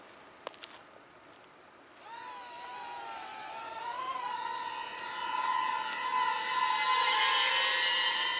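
A Tenergy UDI U845 Voyager WiFi FPV hexacopter drone spins up after a few clicks, its motors rising into a loud, wavering whine that climbs in pitch and keeps growing steadily louder and closer.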